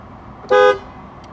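A Ford Fusion's horn gives one short, loud honk of about a quarter second, standing out clearly against a quiet background while a fault is being diagnosed.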